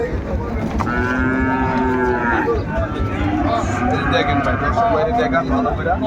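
A young cow lets out a long, drawn-out moo partway through, with people talking nearby over a busy outdoor cattle market background.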